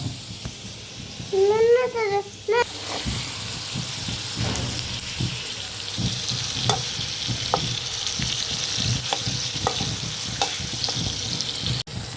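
Vegetables sautéing in a home kitchen pan, a steady crackling sizzle with scattered stirring clicks after a short whistle-like tone at the start; a voice is briefly present early on.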